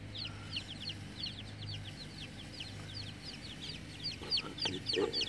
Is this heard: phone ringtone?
no